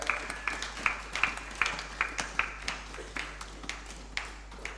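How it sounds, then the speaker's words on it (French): A church congregation claps in a steady, even rhythm, each clap distinct and regularly spaced, faint and somewhat distant throughout. "Applaudissons pour la parole de Dieu."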